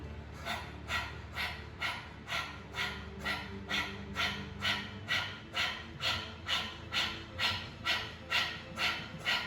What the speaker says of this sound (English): And I want you to start to pant like a puppy.